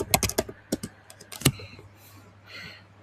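Someone types a command on a computer keyboard while working on a Windows 8 machine, a short cluster of crisp close key clicks followed by a brief pause and a couple of faint later taps.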